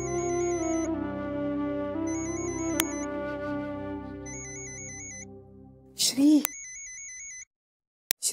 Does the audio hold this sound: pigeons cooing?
no